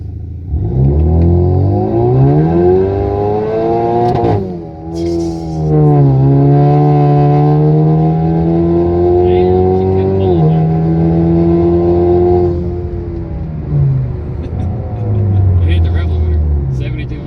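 A 2017 turbocharged four-cylinder Camaro drives on the street and accelerates, its engine note climbing loudly through the revs, dropping at a shift, then rising again, with a low steady rumble throughout and people talking over it.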